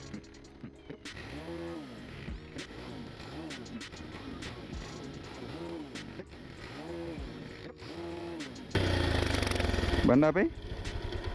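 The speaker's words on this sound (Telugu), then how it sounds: "సో ఇంజన్ స్టార్ట్ చేయి" A motorcycle engine, recently rebored, idles nearby with a loud pulsing chug. Near the end it rises into a sharp rev, while someone talks over much of the running.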